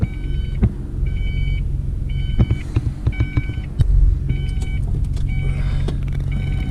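A Ford Aerostar van idles and rolls with a steady, close, low engine rumble, while repeated electronic chimes beep in short bursts and a few knocks and clicks sound from the cabin.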